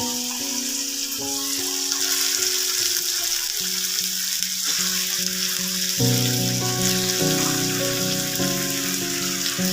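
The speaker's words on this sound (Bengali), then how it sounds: "এবার দেখো, মেখে রাখা এই চিকেনটা আমি কড়াতে দিয়ে দিচ্ছি।" Marinated chicken dropped into a hot kadai of cooked-down masala, giving a loud, dense sizzle that holds steady throughout, with a musical backing underneath and no talking.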